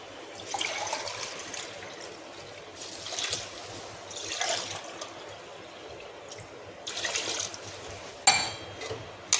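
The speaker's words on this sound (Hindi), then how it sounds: "2 गिलास पानी डाल रहे हैं।" Water poured from a glass into a pot of rice and peas for matar pulao, a few soft trickling, splashing bursts at close range with quiet pauses between pours.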